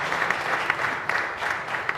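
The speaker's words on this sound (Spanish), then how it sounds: "Un fuerte aplauso para nuestra comunidad" Congregation applauding inside the Chapel of San Juan María Vianney, a steady spread of many hands clapping for about two seconds with a few sharper claps poking through, moderately loud and without talk.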